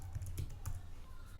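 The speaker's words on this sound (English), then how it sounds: "and now you can start typing." Computer keyboard typing while editing text in an After Effects holiday greetings template, heard as a quick run of soft clicks over a steady low hum.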